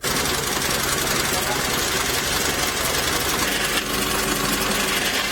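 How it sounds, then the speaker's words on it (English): A sewing machine runs continuously at close range, a fast, even mechanical rattle with a constant motor hum. "spends some time behind a sewing machine"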